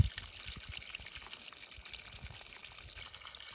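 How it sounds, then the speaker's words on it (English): Water pours out in a steady, continuous splashing trickle, close by and moderately loud, with no voices over it. "if I go over there and film that water pouring out"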